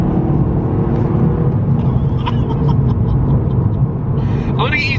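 A 257 bhp Toyota GR Yaris being driven, a steady low engine and road rumble from inside the car, with a few faint clicks and a brief squeak near the end.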